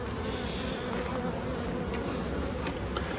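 Honey bees on a hive frame make a dense, steady buzz, close and continuous throughout, with no voices.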